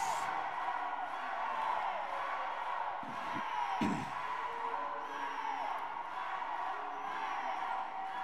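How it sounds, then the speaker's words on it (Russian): A packed hall of fans at a women's volleyball final produces a continuous crowd roar, with a few thumps and a louder burst of noise partway through. "Полный зал болельщиков."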